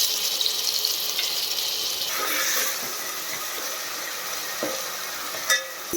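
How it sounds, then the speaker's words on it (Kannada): Homemade ginger garlic paste frying in hot oil in a home kitchen, a steady bright sizzle with some stirring, loudest early and easing slightly, with a brief scrape near the end. "ಶುಂಠಿ ಬೆಳ್ಳುಳ್ಳಿ ಪೇಸ್ಟು ಹಸಿ ಸ್ಮೆಲ್ ಹೋಗೋವರೆಗೂ ಎಣ್ಣೆಯಲ್ಲಿ ಫ್ರೈ ಮಾಡ್ಕೊಂಡಿದ್ದೀನಿ"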